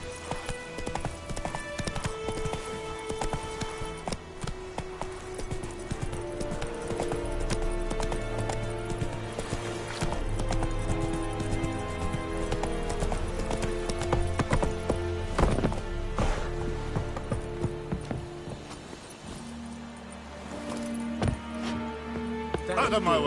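Hooves clip-clop at a gallop and a horse neighs in The Witcher 3, with the sounds mixed among game audio and frequent talking.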